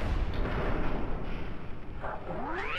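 Continuous heavy gunfire at a turret in Fallout 3: Broken Steel, loud dense shots booming close, with a rising whine near the end.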